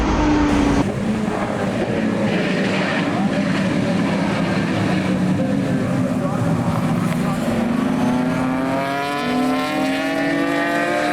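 Touring race cars in a QTCC round roar down a racetrack straight side by side, engine notes climbing and shifting continuously, loud and close, with a commentator talking over the top.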